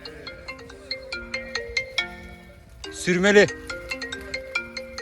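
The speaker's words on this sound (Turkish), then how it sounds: "Telefonun çalıyor." A mobile phone rings with a bright, repeating melodic ringtone, loud and close, at a highland sheep-washing spot; someone briefly speaks over the tune midway before it carries on.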